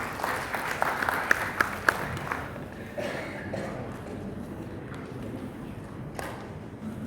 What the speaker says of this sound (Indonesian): Tepuk tangan dulu lah untuk Basnas Kota Pontianak ini.